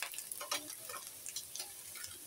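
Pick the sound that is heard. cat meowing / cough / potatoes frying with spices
potatoes frying with spices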